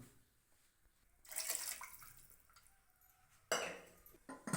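Spice paste mixed with water is poured into a pot of mutton curry, heard as two close splashing, sizzling bursts of liquid separated by quieter kitchen background, with no talking.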